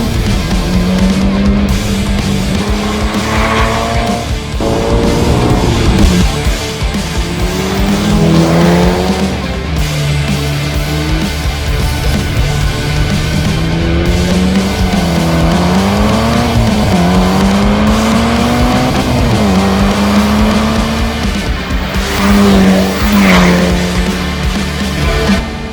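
A Mitsubishi Evo VI with a 4G63T engine pulls hard from a standstill, its loud, close engine note rising and falling steadily through the gears while tires squeal continuously.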